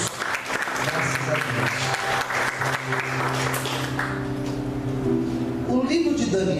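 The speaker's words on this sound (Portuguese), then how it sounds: "Vamos aplaudir o Senhor." A church congregation claps steadily during a service, a moderate wash of applause mixed with sustained voices and tones beneath it, swelling slightly toward the end.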